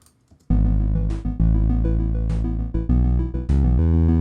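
After a brief quiet moment, a looped Pico-8 chiptune instrument, raised one octave, plays a loud, buzzy run of quick stepped notes with short bright bursts and brief dips, continuous and with no voices.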